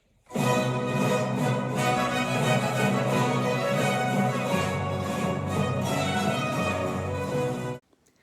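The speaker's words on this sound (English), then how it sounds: "Lully's Te Deum sounds something like this" Lully's baroque Te Deum with choir and orchestra sounding full, sustained chords together, steady and fairly loud, ending with a clean cutoff.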